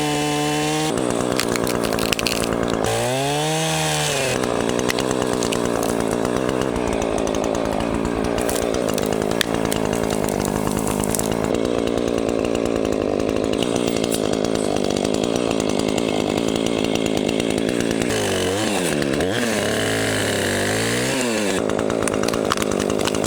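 A chainsaw runs nearly nonstop in a frozen winter forest at about -32C, felling trees, its engine revving up and down as the chain bites into wood, close and loud throughout.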